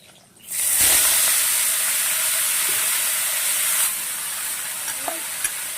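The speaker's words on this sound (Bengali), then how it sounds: "ফোড়নে 5 ফোড়ন দিচ্ছি।" Panch phoron five-spice and two dried red chillies hit hot oil as a tempering: a sudden loud sizzle bursts in after a quiet start, then holds as a steady close hiss with a few faint clinks, no talk.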